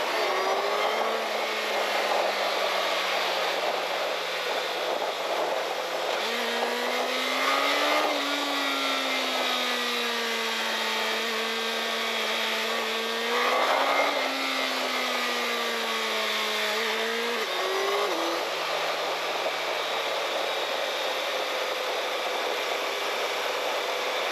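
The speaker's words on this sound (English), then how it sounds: "Hayabusa doing like 60" Suzuki Hayabusa motorcycle engine droning steadily while riding at about 60, a continuous close whine that climbs and dips in pitch with throttle changes and shifts, with constant wind rush and no talk.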